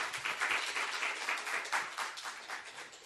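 A small seminar audience gives sustained, fairly close applause, the claps thick and even for about three seconds.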